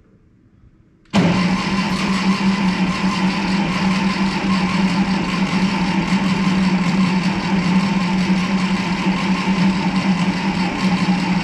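A Ferguson TO-30 tractor engine cranks and catches after a short quiet moment, then runs on loudly and steadily with a little throttle, a rough mid-pitched idle close by with no talk.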